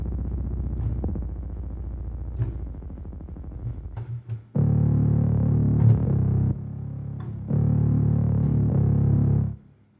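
A synthesized bass preset, Ubase 09 from the Umbra plugin in Studio One, plays a few soft notes and then sustained loud distorted bass tones in two long held blocks, electronic and alone.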